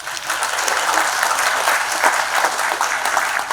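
Audience applause for a motivational speaker, a dense, steady burst of many clapping hands filling the room at an even, fairly loud level for a few seconds.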